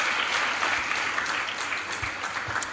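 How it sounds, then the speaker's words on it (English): A school prize-giving audience claps in a dense, sustained round, loud and steady throughout with no talking. "I'm going to ask for this applause to be a little stronger"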